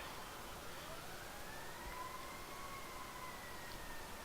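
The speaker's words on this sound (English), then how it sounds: "Oh, there's a bunch of sirens." A distant fire truck siren wails faintly, its tone slowly rising and falling over a low steady background rumble.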